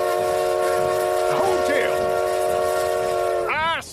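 A train sounds a long, sustained whistle that holds steady for several seconds and bends near the end, heard up close alongside a speaking voice.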